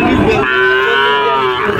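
A large Sahiwal bull at Panchbibi cattle market in Bangladesh gives one long, loud moo close by, a deep drawn-out bellow.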